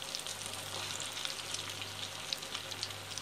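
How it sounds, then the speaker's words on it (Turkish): Zucchini fritters (mücver) fry in shallow oil, giving a continuous bright crackling sizzle with scattered pops at an even level throughout, heard alone without talk. "Bu şekilde hepsini kızarmasını bekleyeceğiz. Dikkatli bir şekilde çevirelim ki parçalanmasın."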